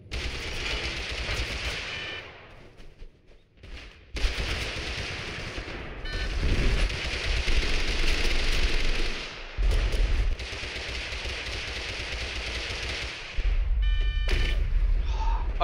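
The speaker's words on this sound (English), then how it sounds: "Somebody's freaking shooting me." Sustained automatic gunfire in the battle-royale game Totally Accurate Battlegrounds, loud and close, rattling in long bursts with short gaps and a few heavier thumps between volleys.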